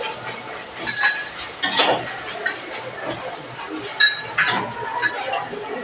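Tomato and ginger paste stirred gently in a pan, with a few scattered clinks of the utensil against the metal over a soft, steady hiss.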